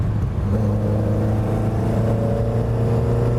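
A 1972 Lotus Europa Special sports car drives along a twisty road, its engine a steady, loud drone with a strong low hum that holds constant throughout, heard from close by without any talk.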